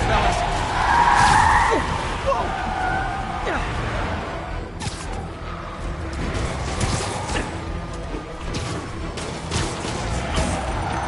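Cars skid and squeal through a chase of hostile vehicles in a Spider-Man video game, with tire screeches and engine roar under a loud mix of crashes and game sound, and a voice briefly speaking.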